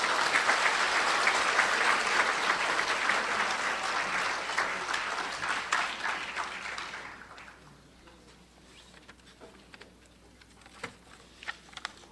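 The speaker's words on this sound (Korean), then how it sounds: "여러분 큰 박수로 맞아주시기 바랍니다" An audience at a Korean anniversary ceremony for the October 4 inter-Korean summit declaration breaks into thick, sustained applause that holds strongly for about seven seconds, then drops to scattered faint claps and quiet room noise.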